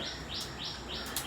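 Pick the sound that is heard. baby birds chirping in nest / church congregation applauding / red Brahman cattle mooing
baby birds chirping in nest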